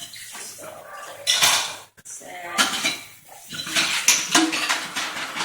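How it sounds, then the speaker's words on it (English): Dishes are washed by hand at a kitchen sink while cooking, with repeated clinks and clatter of plates and cutlery under running water, and a brief spoken word near the start. "I always hand wash my dishes first before I put them in the dishwasher"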